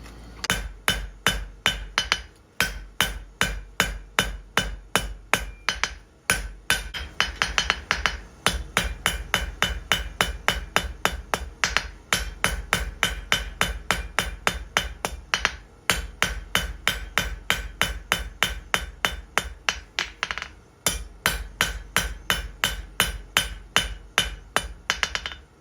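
A hammer repeatedly strikes hot steel on an anvil while forging an outdoor fire poker, loud close blows ringing out in a fast, steady rhythm with a few brief pauses, about forty-plus strikes in all.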